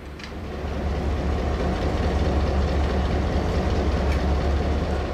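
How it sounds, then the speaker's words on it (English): A steam tour train sits stabled in a yard, a steady low rumble and hum of the idling locomotive holding constant and fairly close, with faint clanks now and then and no talk. "The train was stabled in the yard."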